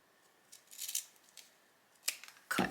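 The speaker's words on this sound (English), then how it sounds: "And I'm gonna cut another one that matches this one." Scissors cutting fabric for a sewn gift bag, a few short crisp snips spaced apart with quiet pauses between, close and alone.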